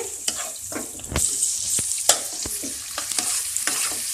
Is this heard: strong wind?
no